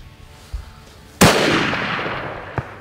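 A single loud rifle shot at a mule deer buck in Mexico cracks out, followed by a long rolling echo. A faint thump comes earlier, and a smaller knock sounds near the end.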